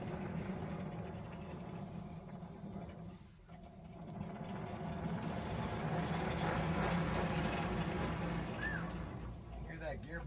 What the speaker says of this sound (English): Hear that gearbox is dry though.